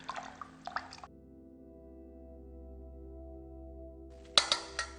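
Water being poured into a container at home: a short splashy trickle at the start and again near the end, with a steady low hum filling the quiet stretch between, close and moderately loud.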